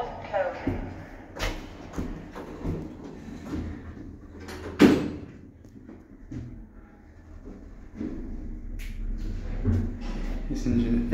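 Older Kone-modified lift doors in a multi-storey car park slide open and later closed, with a clear thud near the middle, amid low mechanical hum and a voice talking over it.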